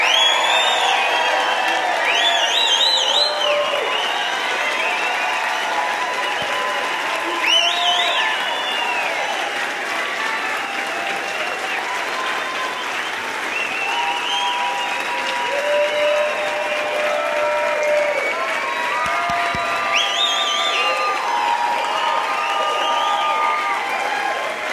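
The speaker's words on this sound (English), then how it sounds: "Can you guys clap it up for Brent, please?" An audience at a live event claps and cheers for a long, sustained stretch, with whoops and shouts rising above the steady applause, loud and full throughout.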